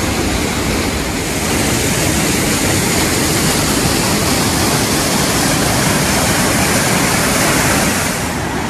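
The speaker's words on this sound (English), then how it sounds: "The water comes from inside the mountain to feed the mill." Steady, loud rush of water pouring continuously at a mill near Cirque de Navacelle, France, a dense broadband roar close by with no breaks and no voices.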